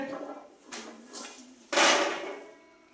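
Small sambar onions pour onto a kitchen scale in a few rustling, rattling bursts, the last one loudest, as the bulbs tumble and settle close by.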